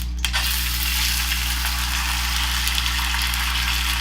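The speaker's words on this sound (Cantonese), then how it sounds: "將呢批米倒落去啦" Glutinous rice, still damp, poured into a hot oiled wok over medium heat and stir-fried, giving a steady close broadband sizzle with a brief clatter at the start, holding evenly throughout with no talk.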